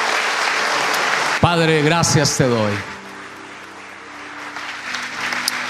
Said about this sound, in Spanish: Puedes darle un aplauso a Cristo en esta hora.